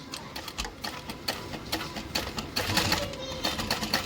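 A sewing machine top-stitches along the trim of a hobo bag and then back-stitches, giving a fast, close mechanical ticking in short runs that grows slightly busier toward the end.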